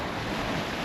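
A steady wash of surf at Filey Brigg, broadband and close, like big waves rolling onto a beach with some wind buffeting, lasting under a second.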